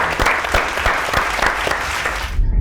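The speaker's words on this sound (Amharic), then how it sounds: "ጭብጨባው ሰጥተናል" A studio audience claps during a televised Ethiopian music competition show, with loud, sustained applause of sharp, distinct hand claps over several seconds that cuts off abruptly near the end.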